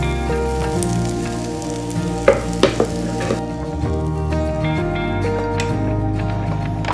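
Oatmeal waffle batter cooks in a waffle maker set to level 4, giving a steady soft sizzle and hiss under continuous background music, with a few light clicks partway through.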